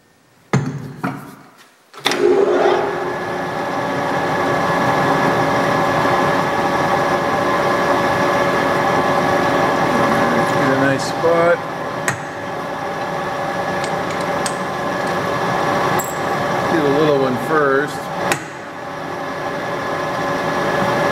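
A metal lathe runs steadily in a machine shop, a sustained mechanical hum with tonal whine, with a few brief clunks and shifts as tooling is handled; no talking.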